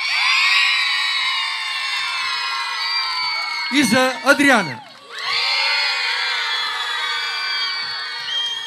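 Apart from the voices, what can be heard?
audience applause and cheering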